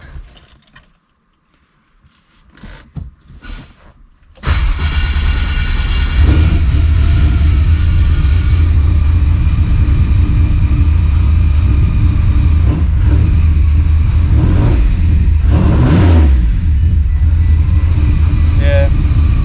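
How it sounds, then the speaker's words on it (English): A car fitted with a nitrous installation is started after a short quiet stretch with handling noises, then settles into a loud, steady engine drone with a few brief revs rising over it. "I'm gonna have to start the car"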